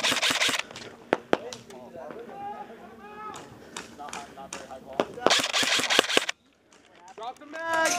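Airsoft guns fire in bursts and single shots during a town battle, with sharp cracks scattered through the clip between bouts of shouted team talk and movement noise, and a louder cluster of shots near the end.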